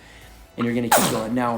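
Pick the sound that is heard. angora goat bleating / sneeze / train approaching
sneeze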